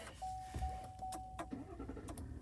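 A car engine cranks briefly and catches into a low, steady idle, with a high warning chime tone sounding just before and a few clicks around it.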